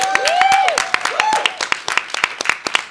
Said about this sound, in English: a huge round of applause for Kelly Jean Fitzsimmons,